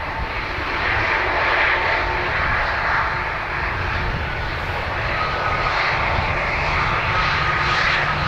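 An Air Canada airliner's engines hum and roar steadily at Dublin Airport as it taxis after landing, a constant loud drone with no break and no voices over it.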